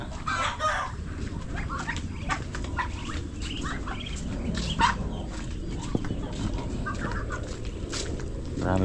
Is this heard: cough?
no